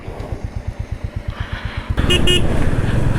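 A Royal Enfield Classic 350 motorcycle thumps at idle with a steady, evenly spaced single-cylinder beat, then the engine revs up and the bike pulls away into a louder, denser roar, with a short horn toot.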